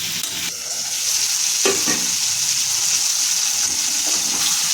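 Green tomato chutney with salt and tamarind fries in a pan, a steady loud sizzle with occasional scraping stirs, close and continuous.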